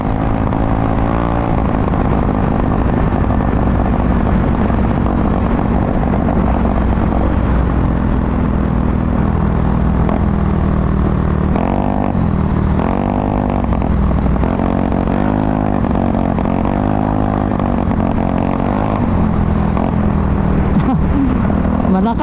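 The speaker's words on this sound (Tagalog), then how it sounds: "exhaust natin, malakas lang sa tunog, mahina sa takbo." Honda Mio Soul scooter with a loud aftermarket exhaust, revving up and down in a raspy, droning roar close by, with several rising and falling throttle sweeps and faint voices in the background.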